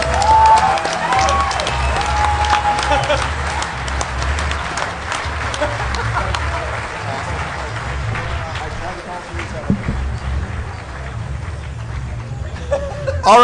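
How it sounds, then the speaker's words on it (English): A conference crowd at a closing ceremony fills the hall with continuous applause and cheering, dense and fairly loud throughout, with a voice talking over the noise and a few scattered shouts. "You better clap for that man."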